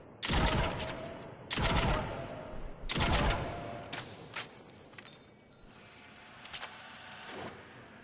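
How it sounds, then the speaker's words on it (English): The Incisor rifle in the video game Mass Effect 3 fires in three-shot bursts. A few sharp, loud bursts come at roughly regular intervals, followed by fainter shots and impacts. "This weapon isn't really a great headshot weapon anyway, just by the nature of its 3-shot burst."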